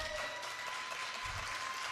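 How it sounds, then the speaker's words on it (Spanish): Applause from an audience at a cultural event plays as a soft, continuous wash of clapping, faint and somewhat distant, with no speech over it. "Fuertes palmas para ella."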